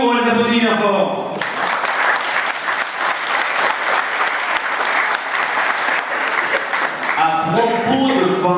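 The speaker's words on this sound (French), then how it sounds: "on les applaudit bien fort" An audience bursts into loud, sustained applause for several seconds, dense clapping from a crowd, with a voice speaking just before it starts and again as it fades.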